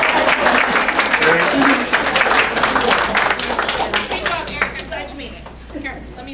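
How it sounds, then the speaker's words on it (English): Audience applause fills a school board of trustees meeting, a dense steady clapping from many hands lasting several seconds before tapering off slightly near the end. "Eric Velasco needs his applause."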